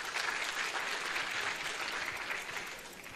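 Audience applause at a medical school graduation ceremony, dense steady clapping from a large crowd that fades slightly toward the end, with no talk over it.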